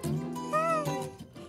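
A Persian cat gives one drawn-out, oddly hoarse meow, close and clear, rising then falling in pitch over about a second, with a short softer sound trailing after.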